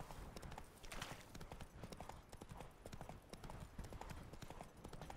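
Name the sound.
horse Roach neighing and hooves in The Witcher 3 video game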